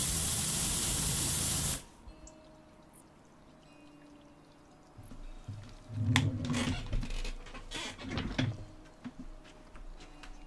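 A pressure washer sprays water in the PowerWash Simulator 2 video game, first a loud, steady hissing blast that cuts off sharply, then quieter intermittent spraying and splashing bursts.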